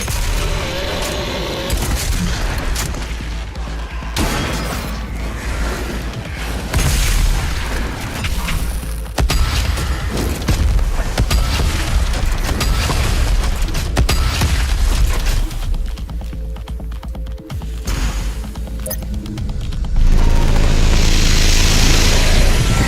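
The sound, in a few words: BFG 10,000 weapon firing in a video game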